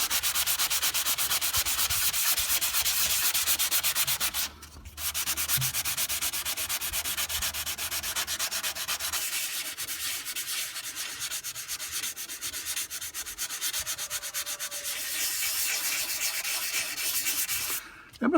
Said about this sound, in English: you can bend the pad around and push it on the adhesive, and it forms a curve so that you can sand